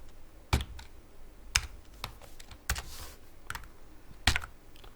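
Typing on a computer keyboard while entering an Eid 2022 greeting message: sparse, irregular key clicks and a few sharper key strikes, fairly close and moderately loud, with no voices.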